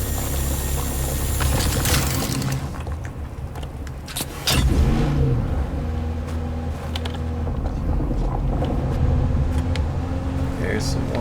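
Buggy driving in Dune Awakening, a steady low engine drone with rattling over rough desert terrain, a brief dip and surge midway, continuous and close throughout.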